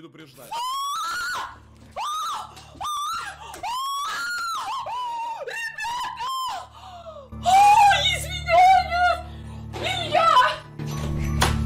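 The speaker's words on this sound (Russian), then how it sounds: "ни хрена себе она кричала" A woman screams loudly and repeatedly in shrill, wavering bursts, some breaking into gasping shrieks, with a voice talking in between.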